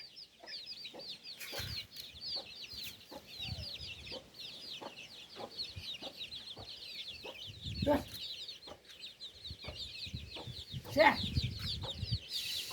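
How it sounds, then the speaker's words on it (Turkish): Chickens cluck in a busy, overlapping stream of short calls, with a few brief rustles and knocks nearby. "Tavuk tepeye çıkmış."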